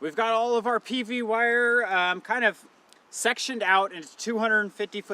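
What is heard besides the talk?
None of the usual background noises is heard.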